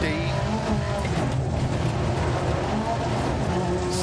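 Opel Manta rally car in DiRT Rally 2.0 on a New England stage, engine roaring steadily throughout as it slides sideways in an oversteer, with faint tire scrubbing and a talking voice underneath.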